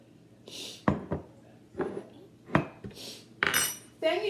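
Brownie batter with vanilla and oil whisked in a bowl, a run of sharp, irregular clinks and scrapes of metal against the dish, fairly close and fairly quiet, with no talking.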